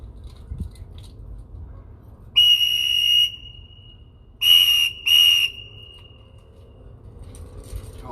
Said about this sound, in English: blew the whistle 3 times.